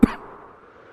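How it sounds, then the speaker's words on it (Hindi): A woman coughs once, short and close, in a cold-weather setting, followed by quiet room tone. "हे भगवान, खांसी हो गई है एक ही रात में।"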